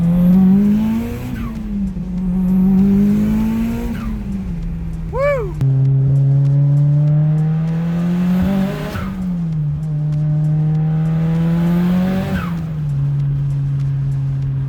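A Mitsubishi Lancer Evolution VIII engine revs hard and loud up close, climbing and dropping in pitch in repeated surges through gear changes, with a brief tire squeal midway.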